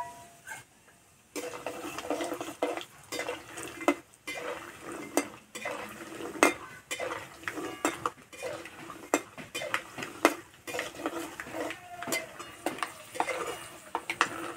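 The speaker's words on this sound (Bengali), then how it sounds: "এবার বাদাম ভেজে নেব।" Peanuts fry and are stirred in a metal pan, producing busy, close rattling and scraping clatter in uneven bursts over a soft frying hiss, with no voices.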